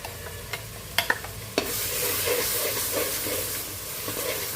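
Reddened onions and ground masala fry for a minced meat dish, first a few clattering stirs against the pan, then a dense, steady sizzle close by, with no voices.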